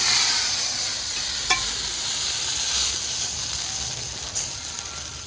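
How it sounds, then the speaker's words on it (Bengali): Steady loud sizzle and hiss as water hits a hot pan of fried lentil dumplings (bori), with a few faint clinks and no talking. "বড়ি ভাজা হয়ে গিয়েছে, এবার এর মধ্যে দিয়ে দিচ্ছি পরিমাণ মতো জল।"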